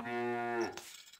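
A single long, deep cow moo from the strategy game Stronghold, a rich harmonic lowing that swells for about half a second, then breaks off and trails into quieter noise.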